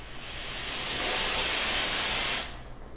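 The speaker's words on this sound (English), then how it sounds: "that steam lever so as to start slow and ramp your way up to full pressure" A Nuova Simonelli Oscar II espresso machine's steam wand hisses, opening gradually to a loud, steady full-pressure rush for about two seconds before cutting off abruptly.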